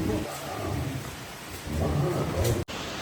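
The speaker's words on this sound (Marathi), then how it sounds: "पावसाने पण आज मजबूत हजेरी लावलेली आहे" A steady roar of rain fills the clip, low and rumbling, with a short dropout near the end.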